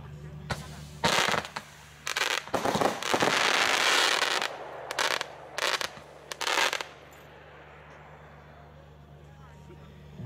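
A 30-shot, 19.5 mm fireworks battery fires a rapid string of loud cracking shots in bursts, then falls quiet with a fading crackle.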